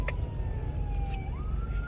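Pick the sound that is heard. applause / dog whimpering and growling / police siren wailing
police siren wailing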